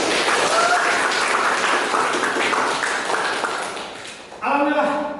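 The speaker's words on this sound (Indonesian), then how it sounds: "Kasih tepuk tangan" A class of pharmacy students gives a round of applause in a lecture room, dense clapping that thins out over several seconds before a lecturer's voice comes back in at the end.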